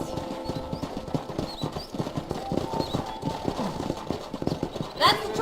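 Horse hooves clip-clop in Red Dead Redemption, a video game, a quick uneven run of hoofbeats over busy ambient game sound, with a sharper burst near the end.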